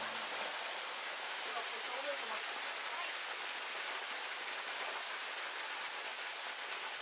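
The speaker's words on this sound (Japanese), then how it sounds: "ここでは滝がご本尊です。" Snake Falls in Tama, a waterfall used for ascetic water training, roars as a constant dense wash of falling water, close and loud, with no speech heard over it.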